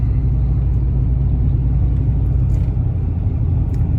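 A 1998–2005 Ford Expedition fitted with a cold air intake drives along, its engine giving a steady, loud low rumble with continuous road noise and no gear changes or talk.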